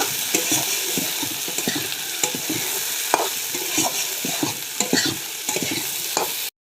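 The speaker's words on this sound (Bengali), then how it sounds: "এবারটা বেগুনগুলো দিয়ে দিই, দিয়ে ভালো করে মিশিয়ে নেব" Eggplant pieces fry in fish oil in a kadai while being stirred briskly, loud close scraping and clattering over a constant hot sizzle, with no one talking.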